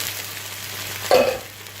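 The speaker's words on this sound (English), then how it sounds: "we're going to drop in our can of tomatoes" A can of tomatoes hitting a hot pan for patatas bravas, giving one short splash and hiss that quickly fades back to a low background hum.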